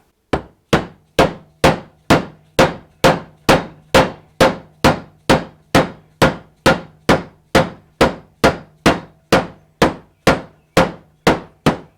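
A small dead blow hammer tapping a part into a gearbox on a 1973 Apache Ramada, about two dozen evenly spaced sharp knocks in a steady rhythm, close and loud with no talk.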